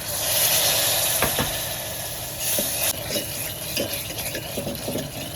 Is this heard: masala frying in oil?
yes